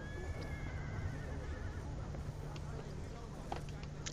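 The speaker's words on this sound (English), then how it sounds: "Would you please take care of my beautiful horse?" A black stallion whinnies briefly near the start in the video game Call of Duty: Black Ops 2, a wavering high call, followed by faint clopping and scattered noises over a steady low background hum.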